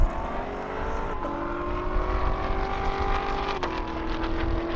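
A Tesla and a Corvette launch side by side down a drag strip at an airstrip event, a rising whine and engine note heard from a distance as both cars accelerate away, with a gear change audible partway through.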